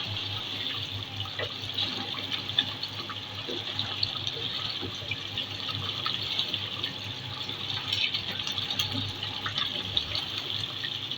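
Gosht (meat) frying on high flame for gobi gosht, a dense, even hiss of hot oil that runs steadily throughout with faint crackles, close and alone without voices.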